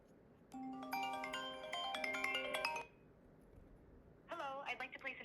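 A phone rings from an incoming AI agent call, a near melodic ringtone phrase that stops, followed by a voice beginning to speak.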